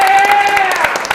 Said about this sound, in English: give a round of applause for GreenDeathFlavor